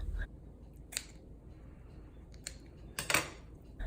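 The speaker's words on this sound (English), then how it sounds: "Take scissors and snip the lip of the cup." Several quiet, sharp scissor snips through the lip of a paper cup, spaced irregularly, ending with a slightly longer crisp cut, close and alone against a faint background.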